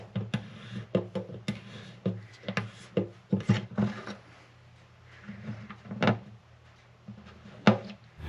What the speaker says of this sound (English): I'm using a 5-degree tapered reamer to ream these holes because that's what's going to match my bridge pins.